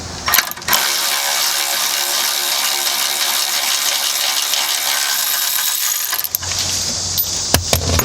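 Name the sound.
ratchet loosening bolt on car lower control arm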